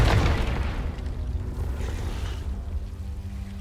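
A Confringo spell blast in Hogwarts Legacy bursts out loud and close at the start, then trails into a rumbling low decay with no voices over it.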